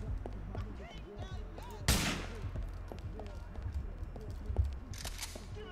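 In Grand Theft Auto IV, a sharp gunshot cracks out near the start, then a second fainter shot follows later, with muffled game voices and background chatter in between.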